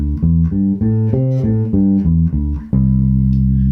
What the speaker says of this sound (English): So this is the scale.